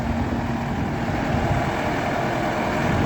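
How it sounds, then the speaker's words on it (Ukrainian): A Solis 105 tractor, a 105-horsepower four-wheel-drive turbocharged machine built by Sonalika, runs steadily during loading, giving a continuous loud low engine drone with no pauses and no talking. "Відвантажуємо тракторця Солі 105, тракторець на 105 кінських сил, повнопривідний, 4 турбований, з кондиціонером."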